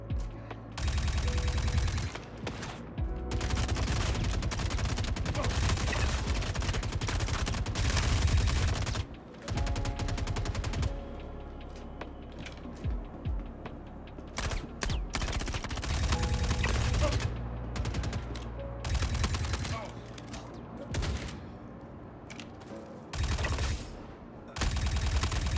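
Full-auto gunfire in the space shooter Star Citizen, loud sustained bursts of rapid shots broken by short pauses and a reload, with a player talking at times.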